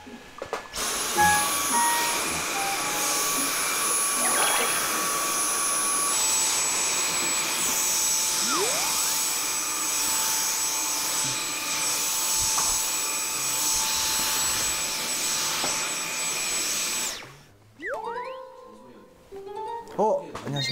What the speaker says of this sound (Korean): 아, 이거 청소기 한번 해보고 싶었어.